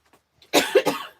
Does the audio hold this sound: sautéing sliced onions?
no